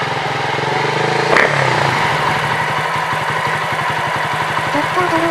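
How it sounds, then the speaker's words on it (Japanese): A Honda CD50 business motorcycle, being rebuilt as a cafe racer with a freshly fitted carburetor jet, idles with a steady, even putter, and a quick rev swells briefly before it settles back to a smooth idle, loud and close. "適当に入れたジェットルーで普通にアイドリングするし、ふかしてみても、案外普通に反応してる。"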